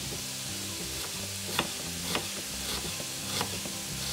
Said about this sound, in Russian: На сухую разогретую сковородку высыпаю шампиньоны.